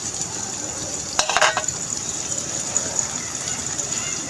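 Tomatoes cooking with spices in a pan on a village clay stove, where new potatoes are being cooked, give a low steady hiss with a brief clatter near the start.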